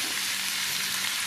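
Garlic and ginger frying in a pan for matar paneer masala, a steady hissing sizzle throughout, close and alone.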